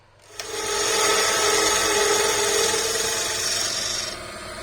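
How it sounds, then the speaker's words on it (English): A cutting edge shaves a 45-degree bevel into a wooden puzzle ball as the piece is slowly rotated. The result is a close, continuous scraping rasp that holds steady for about four seconds before easing off. "I'm going to slowly rotate it and present more of the cutting edge and cut"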